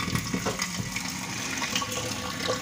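Water runs from a tap into a pot already holding potatoes, a continuous splashing gush with uneven bubbling and spatter, fairly close and steady throughout.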